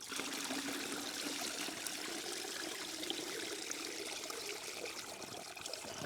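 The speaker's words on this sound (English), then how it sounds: "I'm just going to keep pouring water in here and just breaking that stuff up" Water is poured steadily into a 110 mesh classifier holding Indiana pay dirt, giving a continuous close trickling and splashing wash with no talking.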